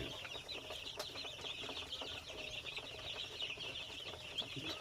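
Fourteen-day-old local-breed chicks on a poultry farm peep and cheep in a steady high-pitched chorus, quiet and somewhat distant, with occasional soft rustling and wing flaps.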